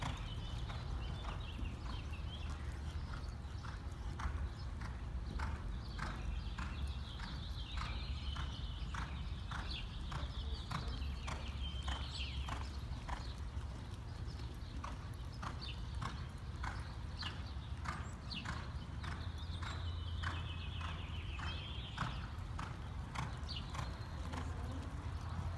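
A horse walks during an intermediate riding lesson, its hooves clip-clopping in a steady, even rhythm on firm ground for the whole stretch, close and moderately loud with no talking.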